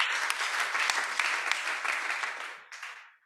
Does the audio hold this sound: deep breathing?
no